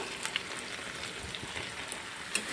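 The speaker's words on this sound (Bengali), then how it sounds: "এবার আর একটু নেড়ে চেড়ে নেব মাংসটা সুন্দরভাবে ভাজা ভাজা" Meat seasoned with chicken masala fries in a pan while being turned, giving a steady moderate sizzle with occasional scraping stir sounds and small spits throughout, no voices present.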